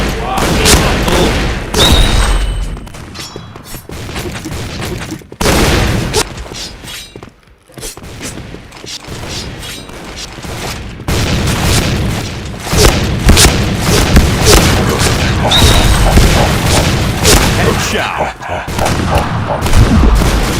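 Gunfire and booming explosions from a shooter video game come in repeated bursts and volleys, loud and dense, with brief pauses and a voice talking at moments.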